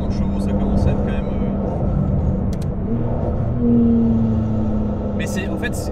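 The RML GT Hypercar, a 950-horsepower road car, drones loudly and steadily from the cabin with a rising engine tone as it accelerates, under continuous talking.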